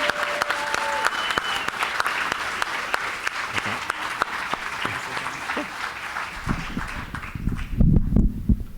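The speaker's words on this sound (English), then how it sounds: "how about we give everyone a round of applause for all that they did today?" A room of people claps for the contestants at a primary and intermediate division event, sustained applause that thins toward the end, mixed with shuffling and a few scattered voices.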